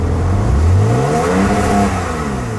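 A Porsche 911 (991) Carrera 4S engine, a 3.0-litre with sports exhaust, revs loudly, its pitch sweeping up and then settling into a throaty, sustained roar close by.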